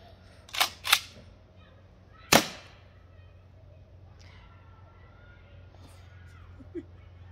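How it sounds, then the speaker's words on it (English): A 12 gauge shotgun fires Byrna kinetic rounds outdoors, three loud close blasts, two in quick succession and a third after a pause, each followed by a short echo. "this is the byrna round, 12 gauge"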